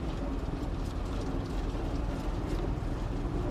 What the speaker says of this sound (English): turn on your compactor and just start driving off